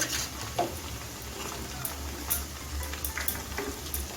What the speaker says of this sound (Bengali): এখন আমি উল্টোতে রাখা পোস্তটা দিয়ে দিচ্ছি